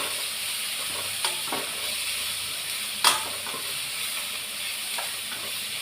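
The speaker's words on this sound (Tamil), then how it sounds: "கட் பண்ணி வச்சுருந்த அவரைக்காய் போட்டுக்கிறேன். இதை நல்லா பரட்டிக்கிடலாம்." Broad beans stir-fry with tomato and garlic in a pan, giving a steady soft sizzle with occasional scraping clinks of a stirring utensil.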